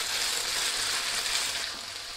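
Garlic-marinated chicken pieces frying in a pan give off a steady, close sizzle that holds fairly even throughout, with no voices over it.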